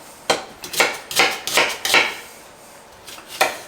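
A knife chops an onion on a cutting board, giving about eight crisp, close knocks in an uneven rhythm with a short pause before the last two.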